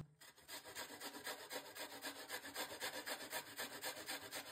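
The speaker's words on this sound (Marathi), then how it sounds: "तर हे आवळे आपण किसून घेऊया" Indian gooseberries (amla) being grated by hand, a close, rhythmic rasping scrape repeating steadily back and forth with no talk.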